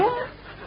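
A dog whimpers once, a brief high whine at the start of a radio comedy sound effect, fading quickly under faint background noise.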